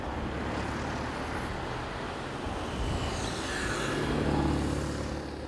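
A DS3 Crossback e-Tense electric car cruises at 80 km/h, heard from inside as a steady broadband road and wind roar with faint tyre hum, constant and moderately loud, no talking.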